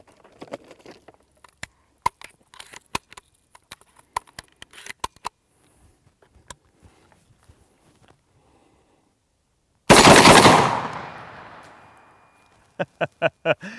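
Three 10 gauge shotgun rounds fired outdoors: after scattered small clicks and handling noises, one loud blast booms and decays over a couple of seconds, followed by sharp reports and clicks.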